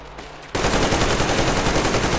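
Rapid automatic gunfire from the video game Metro Exodus kicks in suddenly after a brief quiet moment and continues as a loud, dense burst to the end.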